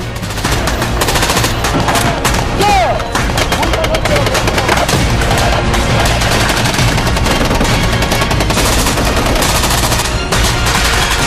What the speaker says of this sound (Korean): 전장에는 총소리와 고함소리만이 난무했다